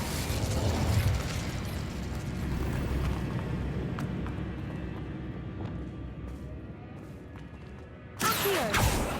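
An Incendio fire spell is cast in Hogwarts Legacy: a dense, roaring burst with rumbling mechanical clatter that thins out, then a sharp, loud blast near the end, with no voices.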